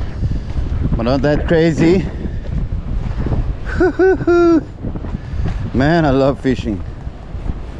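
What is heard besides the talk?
wind blowing at sea while fishing on a boat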